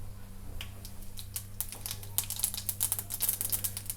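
Half a teaspoon of mustard seeds crackling in a quarter cup of hot oil in a pan for lemon rice, giving sharp irregular pops that grow busier over a steady low hum.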